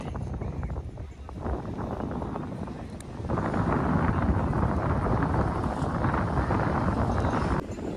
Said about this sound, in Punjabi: ਬੜੀ ਮਿੱਠੀ ਮਿੱਠੀ ਤੇ ਠੰਡੀ ਠੰਡੀ ਜਿਹੜੀ ਹਵਾ ਚੱਲੀ ਜਾਂਦੀ ਆ